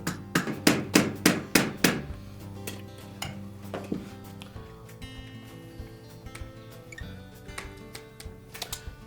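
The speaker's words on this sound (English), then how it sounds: "use a small soft face hammer and just tap that gently" A small soft-face hammer taps a Frigidaire refrigerator's ice chute door housing: a series of sharp metallic taps, about six quick strikes close together, followed by lighter scattered taps and clinks over a faint hum.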